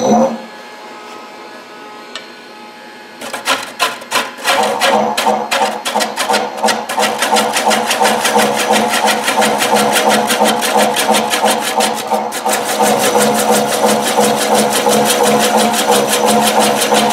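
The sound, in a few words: wood lathe motor rotating while turning a large platter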